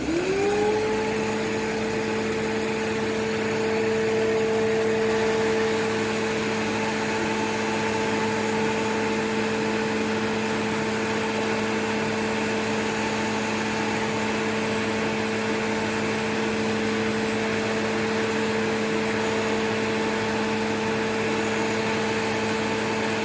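A Eureka Whirlwind 4380 vacuum cleaner runs through its hose with a steady, loud motor whine and airy rushing that starts at once and holds unchanged for over twenty seconds, with no talking.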